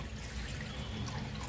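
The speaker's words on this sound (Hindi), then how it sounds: "इसमें हम 1 गिलास पानी ऐड कर देंगे" Water from a glass pours into a cooking pan on a gas stove while making a herbal kadha, giving a steady, close trickling and splashing sound for the whole moment, with no talk over it.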